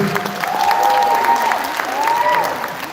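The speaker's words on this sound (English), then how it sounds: "How about another round of applause for the Profusion Dance Group?" An audience at a Miss & Mrs. Asia Michigan pageant applauds a dance group, with dense, steady clapping and some crowd noise, while a voice speaks over it.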